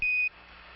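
Apollo lunar module 1201 program alarm during the moon landing descent: a single steady electronic beep tone lasting about a quarter second, loud and clean, then fading into a low hiss of radio static.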